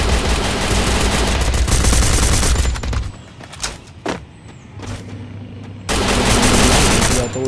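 Rapid bursts of automatic gunfire from a battle royale video game crackle loudly, fade into scattered single shots and quieter sounds, then a dense volley returns near the end.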